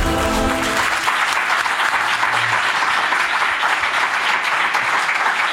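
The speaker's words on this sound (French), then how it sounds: "Un tonnerre d'applaudissements pour Clément Viktorovitch" A studio audience gives sustained, loud applause for guest Clément Viktorovitch, a dense wash of clapping that stays steady throughout.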